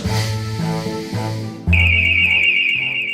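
A burglar alarm in a security advert gives a loud, steady high-pitched electronic tone that starts abruptly partway through, layered over low musical tones that play throughout.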